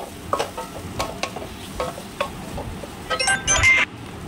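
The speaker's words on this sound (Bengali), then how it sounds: "আলু দিয়েও মিনিট 2 মতো কষিয়ে নেব।" Fried potatoes are stirred into spice paste for a snakehead fish kalia curry. A low sizzle runs under repeated scraping clinks of a spatula against the pan, with a brief louder clatter near the end.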